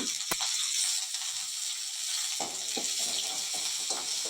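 Shallots and a chili sautéing in a pan with a steady, even sizzle throughout, joined by a few soft scraping stirs partway through, close and without talk.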